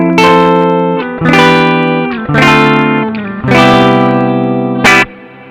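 Strongly picked electric guitar chords through a BOSS RV-6 reverb pedal ring out loudly, five separate strums with short reverb tails that stay controlled rather than washy, played alone.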